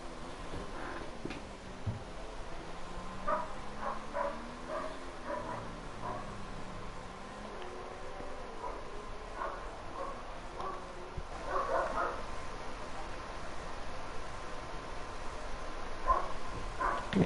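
Several dogs bark and yip outside a window, fairly distant and intermittent over about seventeen seconds, over a steady droning racing-game engine background.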